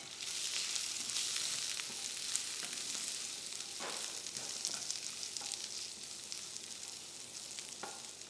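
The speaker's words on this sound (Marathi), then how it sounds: "कमी गॅस असताना त्यामध्ये हिंग, थोडं तिखट आणि हळद आणि श्रावण घेवडा याला छान परतून घ्यायचं" Green beans are sautéed in a pan over low heat with asafoetida, chili powder and turmeric, making a steady close sizzle with occasional stirring scrapes and no talking.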